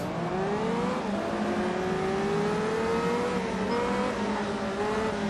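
Several race cars accelerate together off the starting line in Test Drive Unlimited on Oahu, a dense, steady roar of engines with rising revs that stays loud and continuous the whole time, with no talking over it.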